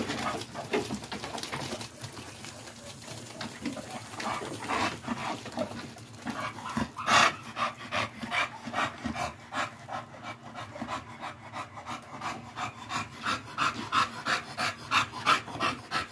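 A dog pants rapidly and steadily up close, the quick rhythmic breaths growing louder toward the end, with faint background noise.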